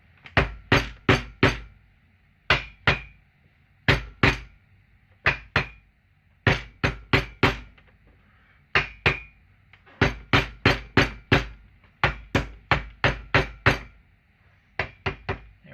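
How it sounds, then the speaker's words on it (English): Hammer blows on a McCulloch Model 77 chainsaw during teardown, knocking a part loose: sharp metallic strikes in quick bursts of two to five hits, separated by short pauses, close and loud. "And I'm doing it with a hammer."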